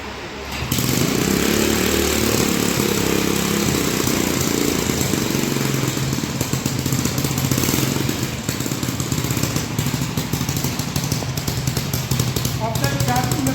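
Small IC engine running fast on an air brake test rig that uses its exhaust gas, a loud, steady buzzing drone throughout after a brief quieter start.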